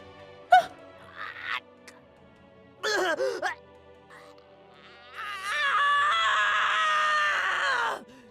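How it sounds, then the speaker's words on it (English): Mathis, a young male character in the game Virche Evermore, gasps and groans in short pained bursts, then lets out a long, loud sustained scream near the end. "I hadn't heard him scream like this before."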